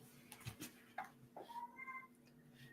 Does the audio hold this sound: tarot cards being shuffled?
no